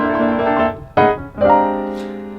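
A piano plays a dominant 13 chord voicing of the kind used in blues-based songs, struck three times as sustained rich chords, each ringing and fading before the next, loud and close with no talking.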